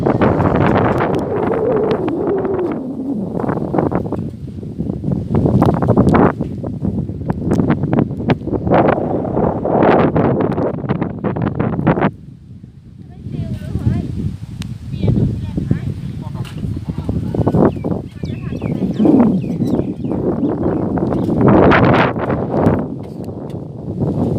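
Strong wind blows across the Mekong riverbank at Bueng Kan, buffeting the microphone in rough gusts while someone talks over it almost throughout.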